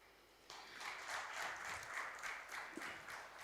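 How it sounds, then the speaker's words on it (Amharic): A congregation in a church sermon applauds, starting suddenly after a quiet moment. Many hands clap in a steady, moderate stream that is fairly distant and soft, with no speech over it. "ለነህምያ ዝም ብላችሁ አጨብጭቡለት"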